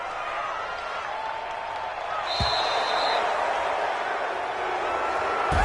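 A large football stadium crowd roars in a steady, distant wash of noise during a Thursday night game, with a commentator talking over it.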